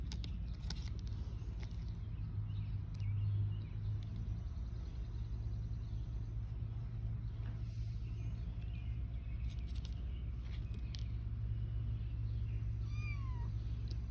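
Six-week-old kittens meowing in short high cries over a steady low rumble of background noise, with a few brief knocks and bumps nearby.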